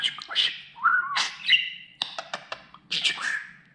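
A pet budgerigar chirps and warbles close by in quick bursts of bright trills, whistles and short chattering notes, separated by brief pauses.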